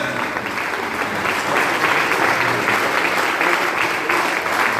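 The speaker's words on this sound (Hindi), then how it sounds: "Big round of applause for reverend Mishra sir." A large audience claps steadily and loudly as a reverend is welcomed onto the stage, a continuous dense roar of hands with no voices over it.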